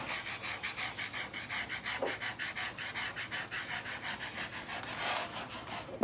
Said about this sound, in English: just working your way down to smooth it out